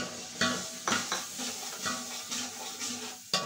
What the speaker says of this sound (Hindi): अब इसकी भुनाई करेंगे।